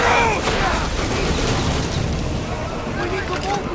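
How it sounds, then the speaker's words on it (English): Enemy ships fire in an Assassin's Creed naval battle on the Aegean Sea, a dense, continuous roar of cannon blasts and booming bursts with voices mixed in. "They're firing on us!"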